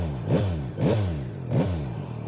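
A 2025 Yamaha MT-09 SP naked motorcycle engine revs three times in steady succession, each blip rising sharply then falling back to idle, close and fairly loud with no talking.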